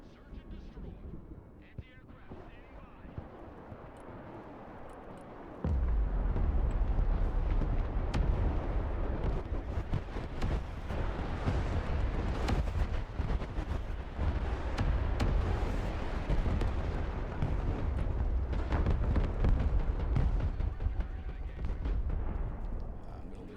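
A Viper attack helicopter firing on armor in Broken Arrow, with faint crackle giving way after a few seconds to a sustained heavy rumble of repeated explosions and gunfire, loud and continuous.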